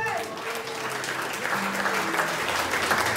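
A congregation at a church service applauding and cheering, a dense sustained wash of clapping with scattered shouts throughout.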